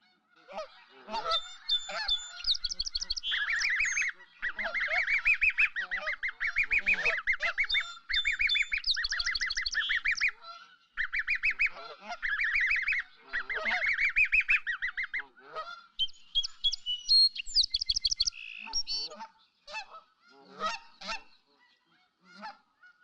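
Wild geese honk loudly and repeatedly at a city wetland in Guelph, with other birds chirping among them; the calling comes in dense bursts with short pauses, close and clear, and no one speaks.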